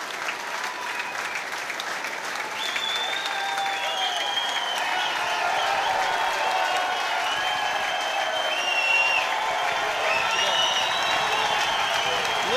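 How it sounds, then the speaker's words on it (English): Sustained loud applause and cheering from a packed, standing crowd in a handball complex after a championship win, with dense clapping throughout and scattered shouts over it. "Look at this crowd, this energy as Paul Brady wins it again."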